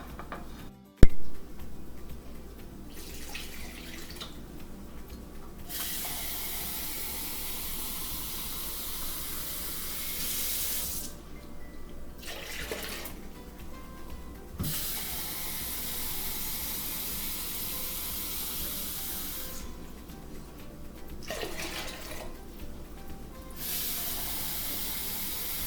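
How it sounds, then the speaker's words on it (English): Water is poured into a crock pot for bean soup with potatoes and tomato soup, in several separate hissing bursts with short pauses between them. A sharp knock comes near the start, and there is no talking. "Okay, I added my 10 cups of water."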